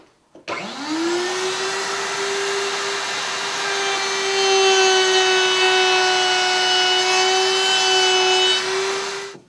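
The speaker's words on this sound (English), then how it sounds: "I put a 5/16 bit in, and I'm going to go ahead and I'm going to round these corners over a little" A router fitted with a 5/16 round-over bit runs steadily as it rounds over the corners of a wooden box, a loud continuous motor whine with cutting noise that spins up after a brief start and holds for several seconds.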